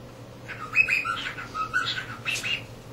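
A cockatiel whistles and chirps in a few bright, rising and falling bursts, close and clear over faint room hum.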